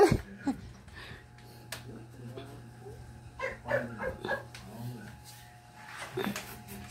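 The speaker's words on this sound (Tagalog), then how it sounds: "Toby. Ito yung aso kong" A small dog yips and whimpers a few times amid a person calling to it, with steady background hum and scattered bumps.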